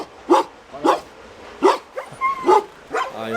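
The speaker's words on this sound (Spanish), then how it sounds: "Hay un par de perritos protectores." A couple of guard dogs bark at night in a mining town, six or seven sharp barks in an irregular rhythm, fairly close and loud against a quiet background.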